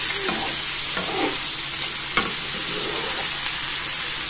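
Carrots and beetroot fry with red pepper in a pan for borscht, a steady loud sizzle with occasional stirring scrapes and knocks, close up and with no talking.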